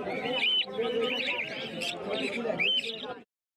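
Pearl and black cockatiels chirp at a bird market. Bright, repeated chirps and tweets sound close, over a busy background with voices, before cutting off abruptly.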